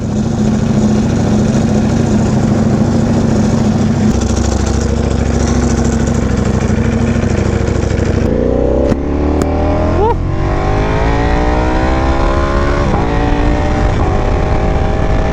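An Aprilia RSV4 Factory motorcycle engine idles loudly up close, then revs repeatedly with rising and falling pitch sweeps, continuous and dominant with no talking.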